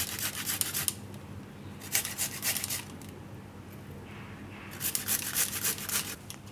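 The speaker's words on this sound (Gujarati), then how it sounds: "હવે આદું છે એને આપણે છીણીને નાખશું. તો આ રીતે છીણી લેવાનું." Fresh ginger rubbed over a hand grater in a home kitchen while cooking onion bread pakoda, giving three bursts of close, raspy scraping strokes separated by brief pauses.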